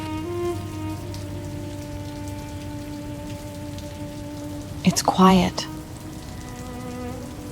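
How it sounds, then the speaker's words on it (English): Steady rain falling outdoors in a dark fantasy film, an even pattering hiss under a low droning hum. A short line of speech cuts in briefly about two-thirds through. "Out here, it's just rain."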